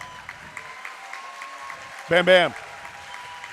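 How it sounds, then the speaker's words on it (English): Crowd applause at a 360 Fight Club 9 fight event, a faint, steady patter of clapping in the background while an announcer's voice briefly cuts in over it. "Ladies and gentlemen, give him a round of applause"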